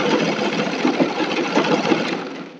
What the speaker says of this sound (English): my machine doesn't have that awful sound because it's well lubricated